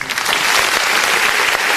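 Sustained, loud crowd applause at a kabaddi cup match in Noor Mahal, Toba Tek Singh, Pakistan, a dense wash of clapping that holds steady for the whole stretch.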